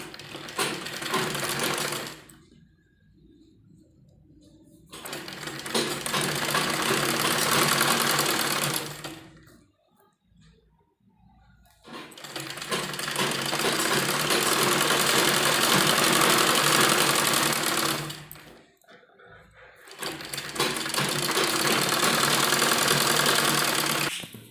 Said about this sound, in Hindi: अब हम दोनों पीस उसके मिलाते हुए उस पर सिलाई लगाएंगे इस तरह से